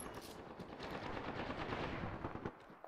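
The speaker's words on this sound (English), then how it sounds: "Opening fire." Rapid automatic gunfire in Apex Legends, a dense unbroken stream of shots lasting a few seconds at moderate loudness, alone without talk.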